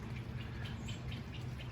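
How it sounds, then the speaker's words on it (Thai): Faint birdsong in a leafy cafe garden in Roi Et: soft, repeated chirps sound at a distance over a low, steady background hum, with no voices. "มีเสียงนกร้อง"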